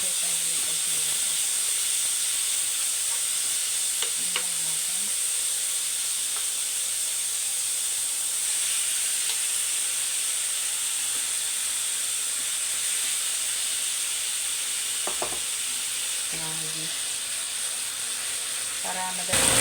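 Sliced beef sizzling in salted butter for a stir fry, giving a continuous soft hiss of frying, even and close, with faint clinks here and there and no clear talk.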